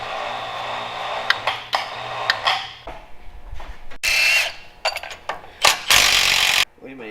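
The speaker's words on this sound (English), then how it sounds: "Now we just got to pull the 6 bolts off that hold the bumper to the end of the frame" A power tool removes the bumper bolts from the end of the frame on an SAS Tacoma truck, in loud buzzing bursts of about a second each. Shorter clanks fall between them, and someone talks nearby.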